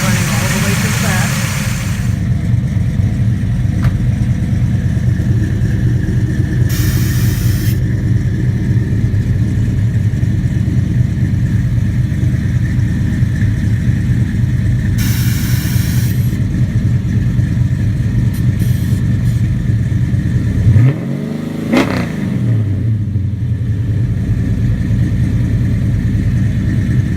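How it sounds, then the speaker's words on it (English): A 1967 Chevelle SS 396 V8 with MagnaFlow exhaust on 3-inch pipes idles in a deep, steady burble for nearly half a minute, with a brief blip or passing swell near the end and someone talking over it. "The exhaust is MagnaFlow on 3-inch pipes running all the way to the back."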